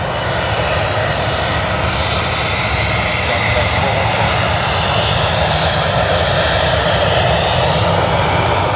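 A jet airliner in a colorful petals livery at Sydney Airport gives a steady, loud, continuous engine roar that holds evenly throughout.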